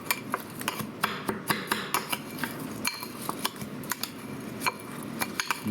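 Ingredients for prime rib, including about eight garlic cloves, being stirred together in a bowl, giving a run of close, irregular clinks and scrapes of a utensil with no talking.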